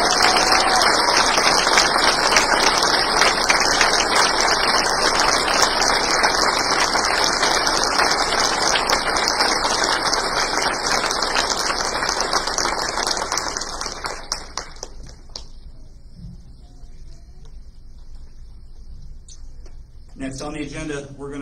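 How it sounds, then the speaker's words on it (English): Commencement audience applauding the graduating academy class, sustained loud clapping for about fourteen seconds before stopping abruptly, leaving a quiet room with faint shuffling and a brief burst of taps at the end. "please join me in giving this incredible group a round of applause"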